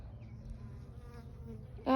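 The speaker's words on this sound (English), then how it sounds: "I hear buzzing in there." A steady, low insect buzz hums throughout, like bees in a hive, with a sharper knock or rustle right at the end.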